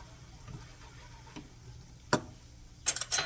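A spoon stirs seasoning salt into turkey gravy in a pot, a low soft swirl broken by a few sharp close clinks near the end, quiet and with no talking.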